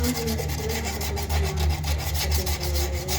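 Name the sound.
sanding rust off a rice cooker pot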